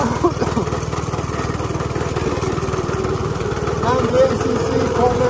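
An ungoverned 98cc go-kart engine runs steadily and close, a rapid chugging buzz with a slight rise near the end, heard from the driver's seat.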